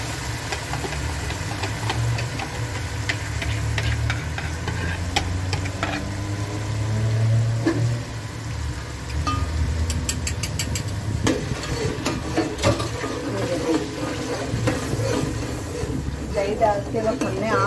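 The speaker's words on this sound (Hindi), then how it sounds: "दही हो चुका है, अब हम इसको मसाले में ऐड करते हैं।" Yogurt spooned into hot masala for fish salan over a lowered flame and stirred, with clinking utensil scrapes against the pot and a soft sizzle running steadily under intermittent talk.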